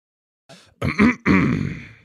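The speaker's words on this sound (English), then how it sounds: "was that a sample of someone clearing their throat?" A person clears their throat up close, a few short rough grunting bursts followed by a longer gravelly rasp.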